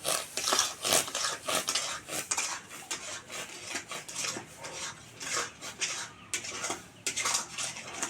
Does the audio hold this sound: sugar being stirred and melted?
yes